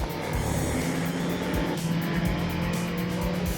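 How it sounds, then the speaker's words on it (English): V8 race cars roar around a circuit together, a loud continuous engine drone with rising and falling revs and a passing whoosh, no talking over it. "they push their V8s to the limit"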